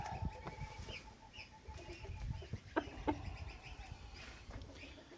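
A rooster clucks in short, scattered calls close by after being set on the ground, with faint chicken sounds in the background.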